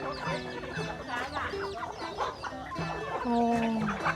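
Over a hundred chickens raised for grilling on a Thai farm cluck continuously in a dense, overlapping chorus, with many birds calling close by and a rooster-like voice rising near the end.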